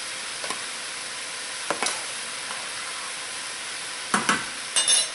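Meat frying in a pan for whole wheat chop suey gives a steady sizzle, with a few sharp stirring scrapes breaking through now and then.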